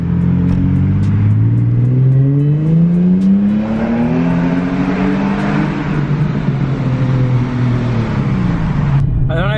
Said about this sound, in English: my car is extremely poppy today for some odd reason